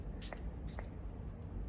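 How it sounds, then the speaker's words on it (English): An antioxidant spray toner with green tea, white tea, rose and lotus extracts is misted from a bottle in two quick, soft, hissing spritzes about half a second apart, faint over a quiet room hum. "I've never had a toner this is in a spray. It is a nice spray."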